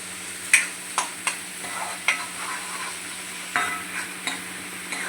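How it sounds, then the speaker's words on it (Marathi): An egg fries in a pan while it is stirred for an egg masala, giving a steady close sizzle broken by sharp scraping clinks of the utensil at irregular intervals. "बघू शकता आपले अंडे पण मस्त असे फ्राय होत आहे."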